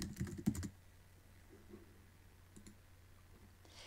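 A few quick computer mouse clicks sound close at the start while a page is built in website software, followed by a faint low room hum.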